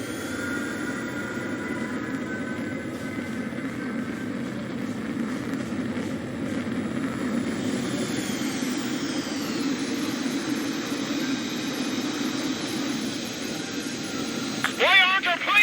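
Jet engines roar steadily in Ace Combat 7, a continuous broad whine and rumble with a pitch shift partway through, and a brief radio-style voice near the end.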